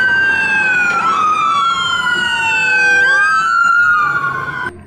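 A toy ambulance siren wails loudly and close, its pitch sweeping up and down through several repeating cycles, with no talking over it.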